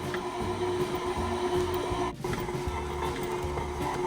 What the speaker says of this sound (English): we'll just let the mixer do its thing